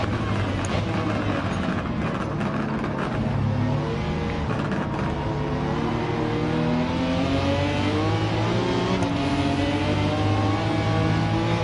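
BMW race car in Gran Turismo 7 holding a loud, steady engine roar near the mic, pitch climbing and dropping through gear shifts with no pause.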